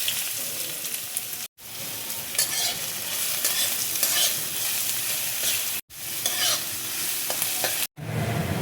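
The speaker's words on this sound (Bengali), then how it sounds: "কড়াইয়ে দেখো তেল দিয়েছি, তেল দেখো গরম হয়ে গেছে। এবার আমি পেঁয়াজ কুচি দেখো দিয়ে দিচ্ছি।" Chopped onion frying in hot oil in a wok, continuous close sizzling with stirring scrapes, interrupted by brief gaps, no talk.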